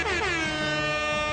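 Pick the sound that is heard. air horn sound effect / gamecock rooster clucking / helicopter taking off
air horn sound effect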